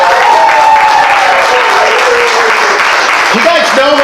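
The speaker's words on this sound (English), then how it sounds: "Give them a big round of applause for just being here." Audience applause at a graduation show, a dense steady wash of clapping filling the hall, with cheers and whoops rising over it, lasting throughout.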